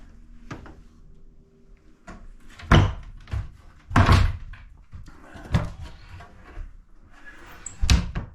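Old wooden cabinet drawers in an empty 100-year-old church being pulled open and pushed shut, a series of about six separate knocks and slides with quiet pauses between them, close by and with no talking.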